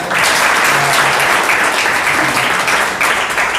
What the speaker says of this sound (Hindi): क्यों ना हम परमेश्वर के लिए और आराधना के लिए जोरदार ताली बजाएं।